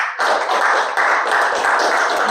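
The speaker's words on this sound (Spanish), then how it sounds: "Mencionando con un aplauso a Matías." A lecture audience applauds a physics class speaker, dense steady clapping from many hands filling the room at an even loudness, with no voices over it.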